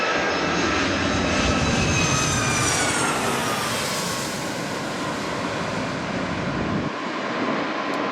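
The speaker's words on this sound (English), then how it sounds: "Taking the runway shortly is Philippines Airlines Flight 113, 777-300." An 11-year-old Philippine Airlines Boeing 777-300 jet airliner on the runway at LAX gives off a loud, continuous jet engine roar with a rising whine, heard alone and steady throughout.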